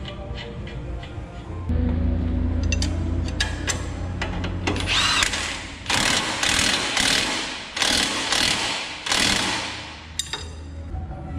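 Power tool and ratchet tightening three new 17mm upper strut bolts on a Toyota Tacoma front suspension during a leveling lift kit install, heard as several loud bursts of whirring and clicking close up, separated by short pauses.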